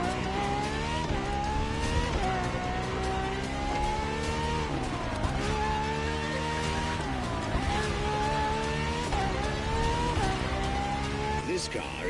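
A Ferrari FXX K supercar races in The Crew Motorfest. Its loud engine revs continuously, climbing in pitch and dropping back at each gear shift, with occasional tire squeal.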